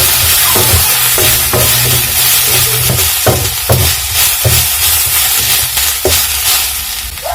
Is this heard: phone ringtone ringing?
no